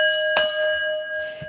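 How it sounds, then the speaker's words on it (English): A bell is struck once with a bright clang, and its clear tone rings on and slowly fades, followed by a faint soft knock at the end. "Let's ring the bell."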